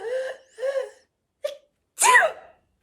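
A voice imitates a sneeze as a short staged sequence, two drawn-out breathy wind-up syllables, a brief catch, then a loud bursting final sneeze, close and alone.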